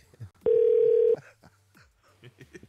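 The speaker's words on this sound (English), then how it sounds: "I think the phone is ringing." A telephone rings during a live-streamed podcast: one steady electronic tone holds for under a second, then soft clatter and room noise follow.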